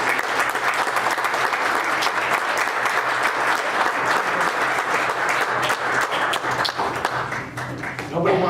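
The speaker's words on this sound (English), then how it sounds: "let's give these guys a big round of applause." Big round of applause for Eagle Scouts at a county board meeting, dense close clapping that continues strongly with a few murmured voices underneath.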